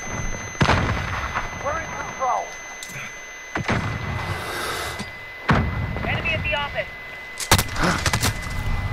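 Gunshots and a grenade blast in a Call of Duty Modern Warfare team deathmatch on the Shoot House map. Several loud, sharp booms and cracks are spaced apart, with brief game voices in between.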